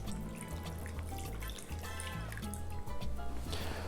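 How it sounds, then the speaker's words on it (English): Lime juice poured over raw fish for ceviche, a continuous close trickle and splash of liquid with faint dripping over a low background hum. "But I'll go ahead and pour this over that fish."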